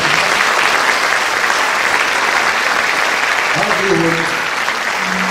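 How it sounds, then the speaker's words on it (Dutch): An audience gives sustained, loud applause at an afternoon presentation event, dense continuous clapping with a voice briefly audible near the end. "Herman Denissen, geef me een goed applaus"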